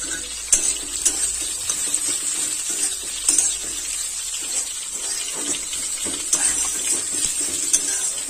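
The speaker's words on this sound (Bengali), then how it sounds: "মশলার সাথে আলু ভালোভাবে কষাই করে নিতে হবে।" Potatoes fry in a pan with spices while being stirred, a steady bright sizzle broken by repeated scraping strokes and clatter of the utensil against the pan, close and loud with no voices.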